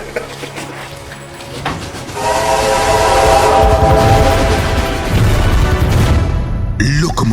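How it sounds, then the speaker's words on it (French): A train locomotive sounds a loud, sustained horn blast over rumbling rail noise, with voices and a crowd audible around it. "Locomotive."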